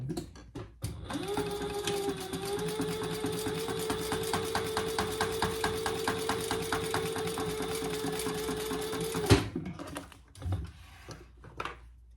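A sewing machine runs steadily for about eight seconds, top stitching the inner side of a crossbody wallet, with a fast, even mechanical patter that stops abruptly, followed by faint handling sounds.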